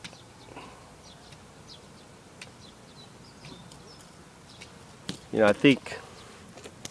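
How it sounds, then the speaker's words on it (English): Japanese bees buzz faintly around an outdoor spot where they are being hunted and trapped, a thin steady drone with a louder close pass near the end and a brief spoken voice. "there's so many bees everywhere"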